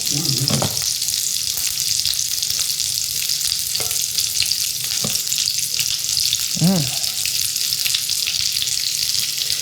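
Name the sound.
bacon and onion frying in Staub cast iron skillet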